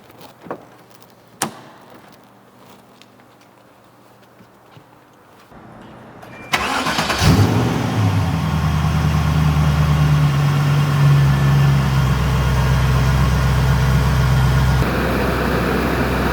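A 1999 Shelby Series 1 sports car cranks over and catches, then settles into a steady, loud idle close by after a quiet stretch with a few clicks.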